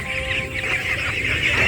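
Ducks on a duck farm by a riverbank quack and honk continuously as a crowded flock, loud and close, with overlapping calls.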